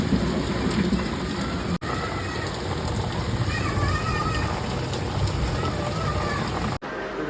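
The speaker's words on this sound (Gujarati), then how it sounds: "ભાવનગરમાં વરસાદ શરૂ થઈ ગયો હોય." Steady heavy rain pours down in Bhavnagar, a dense, close hiss of drops hitting surfaces that continues without letting up.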